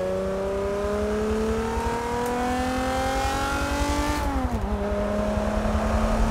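A Nissan G35 drift car in the Forza 7 racing game drones steadily under throttle, its engine pitch climbing slowly, then dropping sharply on a gear change before settling into a constant hum.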